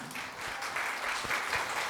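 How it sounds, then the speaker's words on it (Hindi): A crowd claps together in a dense, continuous burst, moderately loud and steady throughout. "जबरदस्त तालियां।"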